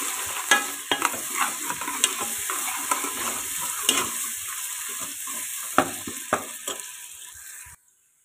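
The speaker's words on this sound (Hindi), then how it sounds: "लहसुन अदरक अच्छे तरीके से फ्राई हो चुका है" Garlic and ginger paste fries in oil in a pressure cooker with a steady, close sizzle. A utensil stirs and scrapes it with scattered clicks, and the sound cuts off abruptly near the end.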